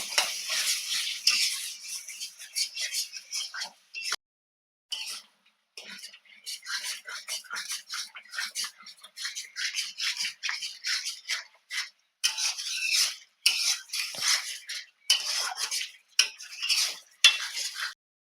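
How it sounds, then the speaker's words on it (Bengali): A spatula stirring and scraping spiced potato masala with a little water in a pan for aloo kosha, heard as close, quiet, irregular scrapes and soft taps in short bursts with brief pauses. "এবারে হালকা জল দিয়ে দেব দিয়ে মশলাটা আবারও ভালো করে কষিয়ে নেব"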